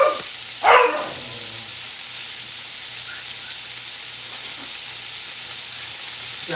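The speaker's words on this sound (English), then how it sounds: "Got a noisy pup here." A single sharp dog bark rings out early, then steady frying sizzle from chicken quesadilla cooking on a griddle fills the rest of the clip.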